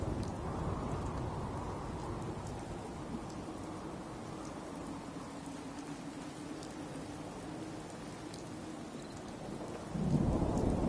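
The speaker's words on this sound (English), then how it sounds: "Damn rain is soaking right through me clothes." Steady heavy rainfall with a deep rumble of thunder rolling throughout, swelling louder near the end, in the video game Fallout 4.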